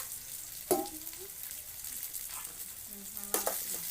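Snail sautéing in hot oil in a pan gives a steady, fairly quiet sizzle, broken by two sharp utensil clanks of stirring near the start and end.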